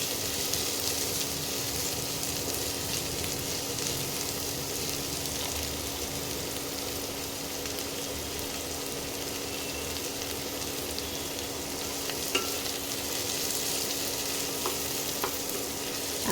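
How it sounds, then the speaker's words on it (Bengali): Chopped onions fry in a pan for a minced-meat ghugni, giving a steady, even sizzle with a few faint clicks of stirring, alone and without talk throughout. "অল্প পেঁয়াজের গন্ধটা চলে যাওয়া অবধি ভাজতে হবে।"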